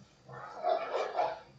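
Dogs bark and yip in the game Nightingale, in several quick, fairly faint calls that run together over a soft background.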